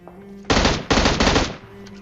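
M16 rifle fire in a mobile battle royale shooter game: two or three rapid automatic bursts, loud and close, breaking over a quiet background hum.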